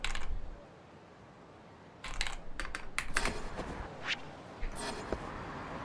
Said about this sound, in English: Keyboard is actually,